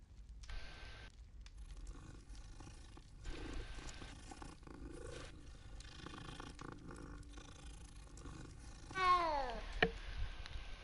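A cat in the video game Hogwarts Legacy purrs and growls in a low, steady rumble beneath layered game music and ambience, with a brief louder rise near the end.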